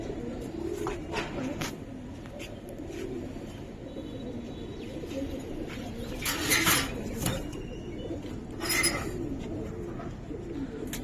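Giribaz and coloring pigeons coo softly at a pigeon sale, their low calls repeating over a steady bustle of background noise, with a couple of brief clattering bursts.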